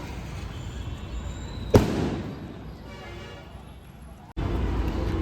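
A single loud firecracker bang bursts at the opening of a new travel company vehicle, followed by a fading crackle and outdoor crowd noise, with people talking around it.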